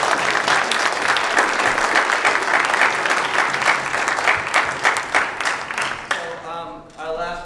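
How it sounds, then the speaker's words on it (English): An audience at a city-wide jazz concert gives a big, sustained round of applause, dense and loud throughout, with a few cheers near the end. "so big round of applause"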